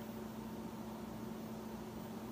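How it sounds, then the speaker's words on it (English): A refrigerator in a quiet house gives off a faint, steady hum with a low tonal drone and even background hiss, unchanging throughout. "I hear the humming of the fridge"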